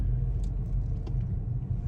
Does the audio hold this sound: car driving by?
yes